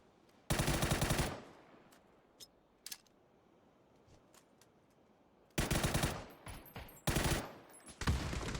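Automatic gunfire in a PUBG match: a loud burst of rapid shots, a few scattered single cracks, then two more heavy bursts and a final shorter burst, with quiet gaps between them and no talking.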